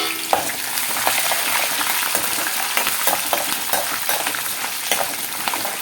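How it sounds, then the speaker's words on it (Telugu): Green chilli pieces stirred into a hot frying tempering for mango pulihora, a steady loud sizzle with repeated scraping stir strokes throughout, no talking. "ఇప్పుడు పచ్చిమిరపకాయ ముక్కలు అవి కూడా వేసేసి చక్కగా కలుపుకుందాము"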